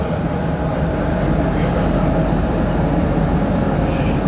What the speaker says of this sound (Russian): когда трамвай подъезжает, весь транспорт встает, останавливается